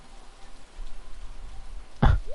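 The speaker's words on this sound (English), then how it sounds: "watching the curtains of rain whisper above a silent lake" A steady, soft hiss of rain falls on a lake in the Stardew Valley game, continuous and even, broken near the end by a brief louder thump.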